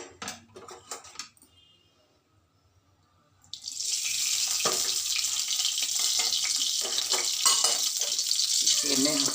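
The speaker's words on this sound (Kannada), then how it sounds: "ಈಗ ಬೆಂಡೆಕಾಯಿ ಹುರಿತೀನಿ." Okra (ladies' finger) dropped into hot oil sets off a loud, steady, close sizzle that runs unbroken for several seconds after a quieter stretch of low clatter.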